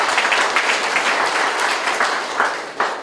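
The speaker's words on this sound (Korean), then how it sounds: "큰 박수 보내주십시오" An audience at the inauguration ceremony of a retired police officers' association chairman gives loud, continuous applause, many hands clapping steadily for about three seconds.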